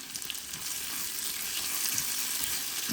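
Tomatoes and garlic fry in hot oil in a pan with cumin and onions. A steady, close crackling sizzle continues without a break.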